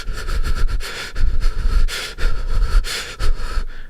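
A voice imitates heavy breathing: loud, close sniffing and panting breaths in quick, uneven bursts, with no words.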